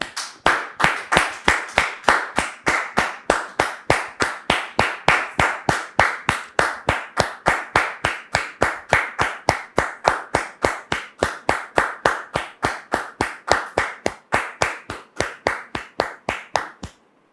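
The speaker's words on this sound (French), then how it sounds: "Sous vos applaudissements, s'il vous plaît." Studio audience applause on a talk show, heard as a steady run of about sixty sharp, evenly spaced close claps that keep a brisk, regular rhythm for over fifteen seconds before stopping, with no talk over them.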